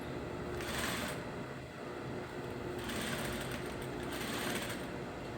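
A sewing machine stitches corset boning casings in three short, quiet bursts of rapid whirring, separated by brief pauses.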